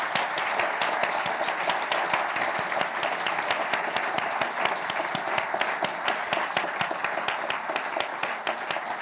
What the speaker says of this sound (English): I'm sure you'll join me in a huge round of applause to thank our two panellists, Jonathan Putters and Michael Gove